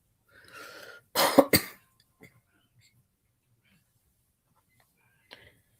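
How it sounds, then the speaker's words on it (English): A single sharp, harsh cough from a persistent cough bursts out after a faint breathy sound, followed by quiet and a small throat noise later. "find out why this stupid cough does not go away"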